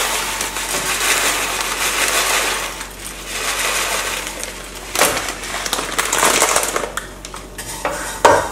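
Small pasta strips go into warm oil in a pan for Greek or Turkish rice, giving a scattered, rattling clatter and metallic scraping throughout, with a few louder knocks near the end and no talking.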